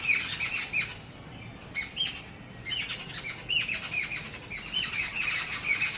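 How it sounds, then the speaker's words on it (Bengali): A flock of birds perched in a tree squawk and chirp loudly nearby, overlapping calls in busy bursts with a short lull partway through. "কত পাখি এসে ডাকছে দেখো,"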